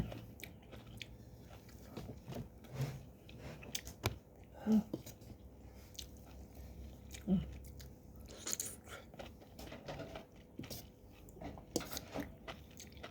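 Close, quiet bites and chewing of Thai bitter mushroom curry made with vegetables, in soft, irregular crunches with brief pauses between mouthfuls.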